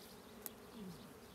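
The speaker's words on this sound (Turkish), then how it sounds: "Arılar beni sardı." Bees swarm around a beekeeper beside an open hive outdoors, giving a faint, steady buzzing hum with one brief click partway through.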